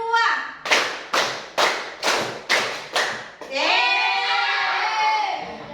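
Six sharp, evenly spaced hand claps ring out loudly, followed by a sustained bleating animal call.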